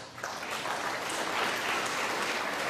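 A snooker crowd gives a warm round of applause, a steady, full wash of clapping that swells quickly and holds strong without a break.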